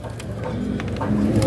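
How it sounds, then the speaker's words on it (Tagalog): Low soft pigeon coos in a Tondo loft of racing pigeons, repeated murmuring under background noise and faint voices. "may dala tayong ibon"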